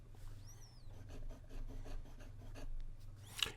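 A Pelikan M600 fountain pen with a gold nib writes on paper, giving soft, close scratchy strokes with slight feedback in short repeated bursts over a low background hum.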